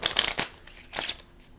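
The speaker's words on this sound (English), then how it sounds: "Then you take the bottom half and shuffle the 2 dragons in." A quick riffle of Dragonwood playing cards being shuffled, a short burst of flutters followed by a softer second riffle, close by.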